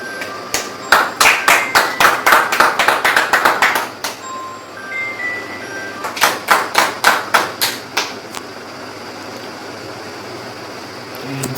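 An audience at a hospitality industry workshop claps in two bursts of sharp, evenly paced clapping, loud and close, separated by a brief pause over a low room hum.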